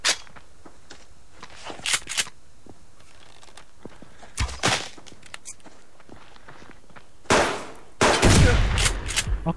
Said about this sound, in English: How many shotgun shells will this guy take?